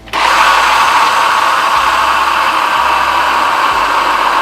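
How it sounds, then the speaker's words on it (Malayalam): A mixer grinder jar blending soaked rice with three eggs into a smooth batter for a Lakshadweep kilanchi recipe, a loud, steady, continuous whirring drone that starts abruptly and runs without pause, with no talking. "മുട്ട ഒഴിച്ചിട്ട് മിക്സിൻ്റെ ജാറിൽ അരച്ചെടുക്കണം."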